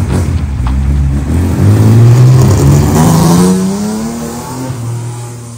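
A turbocharged Chevrolet Caravan pulls away, its loud engine revving up through a rising pitch as the car accelerates off, then easing and fading slightly near the end.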